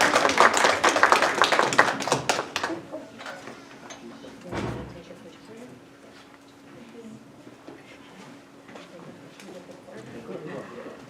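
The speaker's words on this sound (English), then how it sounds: "So big applause for Alice." Audience members at a board meeting clap for a student finalist in a burst of applause that lasts a couple of seconds, then trails off into room noise and a voice talking.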